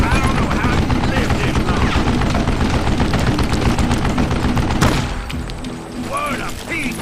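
Gunshots in the Western shooter Call of Juarez: Gunslinger, dense and rapid gunfire with mechanical clatter running under talking, then breaking off abruptly into quieter action noise.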